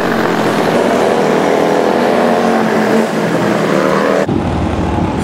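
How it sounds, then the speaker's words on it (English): A motorcycle engine roars close behind a rider on a Kaabo Mantis King GT electric scooter, heard as a loud, continuous engine drone mixed with rushing wind that drops off abruptly near the end. "I hear a guy on a motorcycle behind me."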